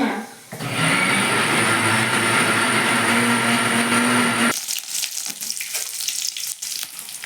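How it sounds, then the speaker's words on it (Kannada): Garlic and mustard seeds sizzle loudly in hot oil for a chutney tempering, a dense steady crackle that cuts off abruptly partway, followed by quieter clinks and kitchen movement. "ಚಟ್ನಿಗೆ ಒಗ್ಗರಣೆ ಕೊಡಕ್ಕೆ ಬೆಳ್ಳುಳ್ಳಿ ಸಾಸಿವೆ ಸ್ವಲ್ಪ ಕೆಂಪು ಆದವು"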